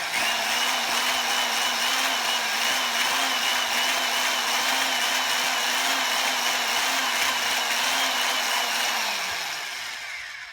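An electric drill's motor whines continuously at close range, a loud steady buzzing drone that holds for most of the stretch, then slows and fades as it spins down.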